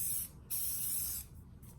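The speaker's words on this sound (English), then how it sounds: "this is a dry texturizing spray from Davines, and I'm just gonna go through everything just a little bit" Davines dry texturizing spray hisses from an aerosol can onto hair in three short bursts, close and crisp, separated by brief pauses.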